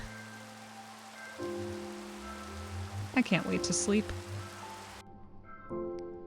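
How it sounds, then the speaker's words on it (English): Steady rain falls in the Minecraft overworld as an even hiss of drops on surfaces, with a person speaking briefly over it before the sound cuts off near the end. "And raining again."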